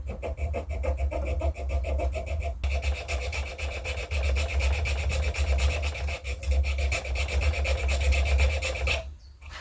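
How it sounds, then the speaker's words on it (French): A drill bores temporary grooves into a wooden bow, making a continuous raspy, grinding whir that stays close and loud, with brief dips where the tool pauses and no speech. "On va percer les gorges. Des gorges provisoires."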